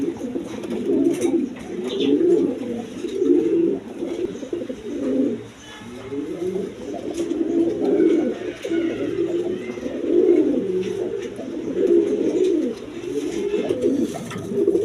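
A male pigeon kept with others for sale coos in repeated low rolling phrases, close and continuous throughout, with faint chirps in the background.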